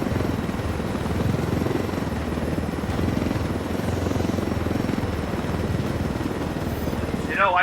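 Helicopter flying in the video game Ghost Recon Wildlands, a steady close rotor thump and engine drone that holds at an even loudness for the whole stretch, with no talk over it.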